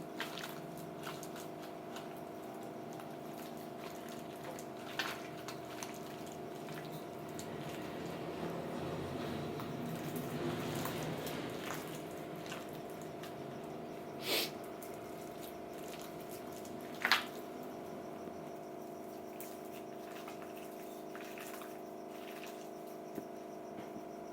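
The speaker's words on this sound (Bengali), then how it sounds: "এইভাবে কলাগুলো সব চটকে নেব আমি" Bananas being mashed by hand in a small bowl for banana pitha, a soft continuous wet squishing under a steady background hum, with a few sharper clicks, no talking.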